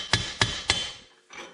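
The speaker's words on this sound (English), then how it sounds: "tapped it with a hammer and pushed the bearing out on the other side" Three sharp metallic hammer taps on a sleeve, driving out a swing arm bearing on a Yamaha Raptor 250 ATV, land in steady succession, close and loud, followed by a fainter scrape.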